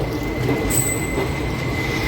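The Tirunelveli–Purulia train rolls past at Katpadi Junction with a continuous near rumble and a sustained high metallic wheel squeal rising partway through.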